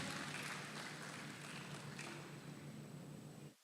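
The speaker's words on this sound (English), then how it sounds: "Old Harbor High is one of the, big round of applause." Conference audience applauding Old Harbor High at an ICT Club event, a dense, even wash of clapping that fades out at the end.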